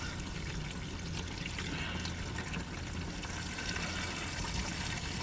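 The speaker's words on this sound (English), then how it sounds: "This is gallons and gallons of water." Water pours and trickles steadily from the engine of a Chevy K5 Blazer, a continuous wet splashing stream that runs unbroken and fairly close throughout, with no talking.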